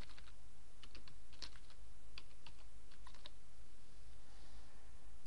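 Continuous typing on a computer keyboard: a quick, uneven run of small key clicks, close but fairly quiet over a low steady hum, with no speech.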